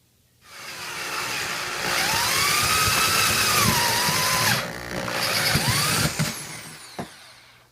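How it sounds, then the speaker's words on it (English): A 2 7/8-inch hole saw on a drill bores through a plastic hydroponic tote lid, a loud whining grind rising and falling in pitch for several seconds with a short pause before finishing. "2 7/8 will cut the perfect hole for a 3-inch net cut to fit right on the lip"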